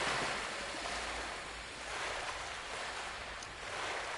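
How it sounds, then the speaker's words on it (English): Water splashing and lapping around a character in Ghost of Tsushima, a steady washing, surf-like rush that swells and ebbs with no talk. "I know I'm just splashing around in the water."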